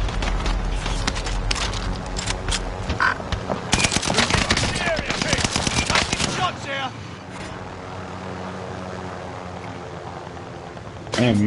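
Rapid automatic gunfire from a Call of Duty match, dense bursts building to a loud peak midway and then giving way to steady background game noise, with people talking throughout.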